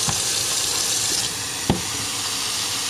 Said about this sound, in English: Fill that up with some water.